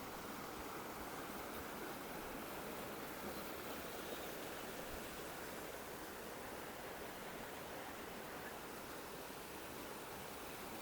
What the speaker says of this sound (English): That'd be the sound of running water.